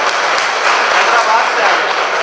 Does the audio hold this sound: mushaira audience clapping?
yes